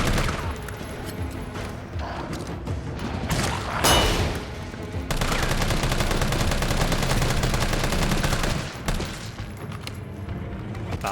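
Sustained heavy gunfire while fighting a Hunter creature in Resident Evil 3 (2020): loud, continuous rapid shots with a sharp blast near the middle and a dense burst running several seconds before tapering off.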